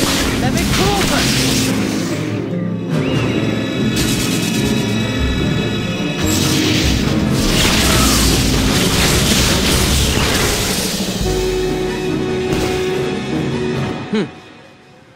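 Spell-casting effects ring out during a wizard duel in the Harry Potter and the Half-Blood Prince PC game, with loud bursts and booming impacts over a dense, continuous game music bed.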